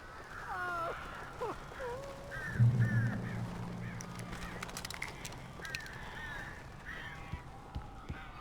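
Crows caw in fits through a quiet, tense scene in the video game Alan Wake, with a low droning hum rising partway and faint rustles in the background.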